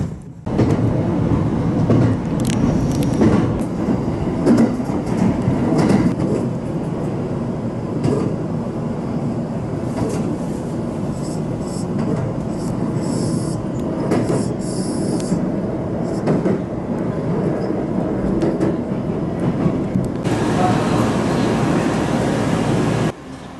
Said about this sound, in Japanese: 電車に乗りました。